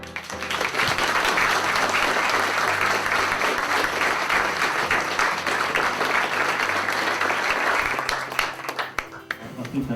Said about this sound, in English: People didn't want to stop clapping.